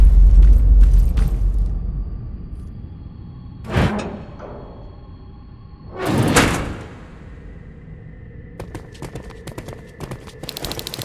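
A mechanical door opening in the video game Terminator: Resistance, heard as two heavy sliding bursts a few seconds apart over a low ambient hum, with faint scattered clicks after.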